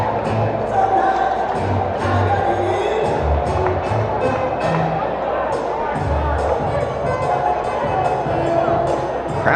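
Crowd noise fills an indoor gym at a men's college volleyball match between Carthage and North Central, a steady hubbub of chatter with frequent squeaks and footfalls from play on court.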